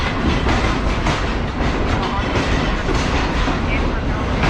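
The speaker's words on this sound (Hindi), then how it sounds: "तो ये ट्रेन हमारी पहुंच चुकी है रावलपिंडी रेलवे स्टेशन पे।" A new Chinese-built Pakistani passenger train rolls into Rawalpindi railway station, its continuous loud rumble and rail clatter filling the scene steadily throughout, with a voice faintly audible beneath the noise.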